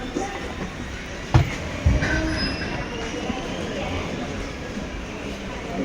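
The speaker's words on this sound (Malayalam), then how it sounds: "തലശ്ശേരി റെയിൽവേ സ്റ്റേഷൻ ട്രെയിൻ എടുത്തു." Train pulling out of Thalassery railway station, a steady rumble of rail cars with a couple of sharp metallic clanks early on and faint wheel squeal, fairly loud and continuous.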